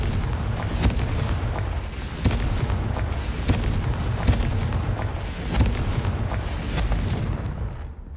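Bombarda and Confringo spell blasts in the Hogwarts Legacy video game go off repeatedly, a run of booming explosive hits at irregular intervals over a continuous rumbling backdrop, with no talking.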